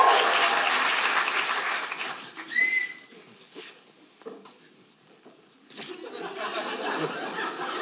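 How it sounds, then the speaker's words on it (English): Comedy special audience clapping and laughing after a Titanic-themed bit, starting as a full burst, briefly interrupted by a whistle, then thinning to scattered claps and chuckles before swelling again. "A round of applause for the Titanic scene!"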